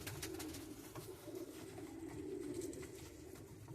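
Racing pigeons coo softly and continuously in a loft box, a low murmuring drone close by with faint rustling.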